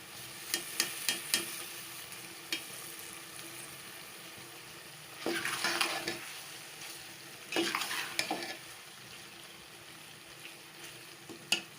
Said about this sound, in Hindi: और 2-3 मिनट इसको भून लेते हैं ताकि तोरी का सालन बहुत ही अच्छा और मज़ेदार बन जाए।